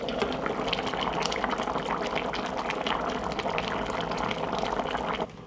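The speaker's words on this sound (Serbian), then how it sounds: "od momenta kada proključa kuvat ću 40 minuta" Stew bubbles hard in a covered pot, a dense, continuous rolling boil heard up close and fairly loud, cutting off abruptly near the end.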